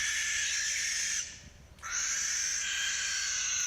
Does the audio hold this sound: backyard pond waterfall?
no